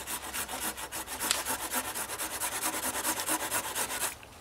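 A hand saw cuts through a standing tree in the woods. It gives a steady, near, rhythmic rasp of quick back-and-forth strokes for about four seconds, then stops.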